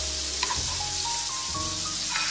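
Butter melting in a pan over low heat, later used to infuse fresh sage for truffle ravioli, giving a steady, soft, close sizzle with faint tonal hum and no talking.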